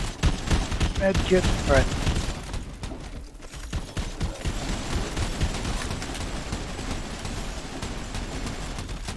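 Rapid automatic gunfire in the video game Red Solstice 2, dense bursts that are loudest early and then continue as steadier firing, with a player speaking briefly over it.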